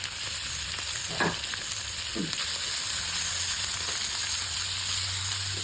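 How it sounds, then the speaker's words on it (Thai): Minced pork stir-frying in a hot pan, a loud continuous sizzle with occasional scraping stirs of the spatula, no voices. "ทำการผัดหมูให้สุกก่อนนะครับ ผัดหมูสุกก่อนครับ"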